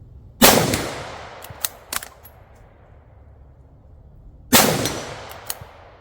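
Two sharp, loud rifle shots from a Ruger American Ranch Gen 2 in 5.56 NATO fired at a barricade, spaced about four seconds apart, each followed by a decaying echo and faint metallic clinks.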